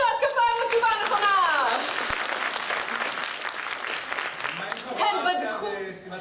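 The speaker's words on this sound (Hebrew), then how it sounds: "מחיאות כפיים לתשובה הנכונה!" An audience bursts into applause for a correct answer, a full crowd clapping steadily for several seconds, with a voice speaking at the start and end.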